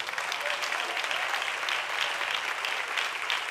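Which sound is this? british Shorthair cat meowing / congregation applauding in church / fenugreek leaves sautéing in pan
congregation applauding in church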